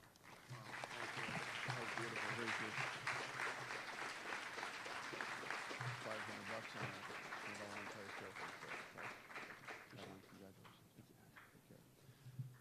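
Sustained applause from a conference audience at a Law Day ceremony, a dense wash of many clapping hands rising quickly and then tapering slowly, with a few louder individual claps standing out near the end.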